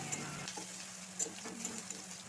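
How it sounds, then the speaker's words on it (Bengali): Chopped onion frying in oil while being stirred and turned until it browns, a constant close sizzle broken by scattered scrapes and taps of the spatula, no voices. "পেঁয়াজটা ভালো করে নেড়ে নেড়ে লাল লাল করে ভেজে নেব।"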